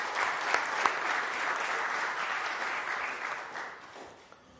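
An audience at the 2025 national dairy farmers' awards ceremony gives sustained, dense applause that fades gradually near the end, with no talking over it.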